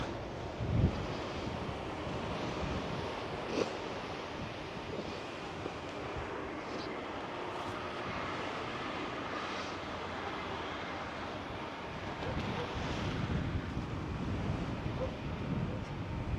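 Broad roaring wind mixed with the steady wash of ocean waves on a beachfront in Mindelo, Cabo Verde, continuous and fairly loud, with a few brief thumps of wind on the microphone.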